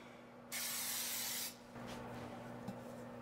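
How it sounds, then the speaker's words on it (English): Cooking spray hisses onto baking pans in a kitchen. One loud spray lasts about a second, then a softer, shorter spray follows, with no talking. "Just going to spray them, or you can butter them."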